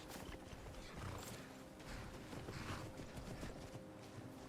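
Rhythmic clip-clop of hooves with a horse whinnying over a noisy, busy background in the video game Skyrim, fairly faint overall.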